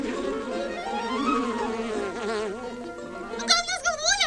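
Cartoon bees buzz as a continuous insect drone with wavering pitch, growing more agitated near the end, with no speech over it.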